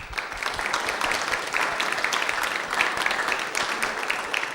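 An audience applauds after a demo at a 2012 summer test lab session, with steady, moderately distant clapping from many hands filling the space throughout.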